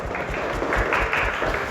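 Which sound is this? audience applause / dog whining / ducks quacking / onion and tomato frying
audience applause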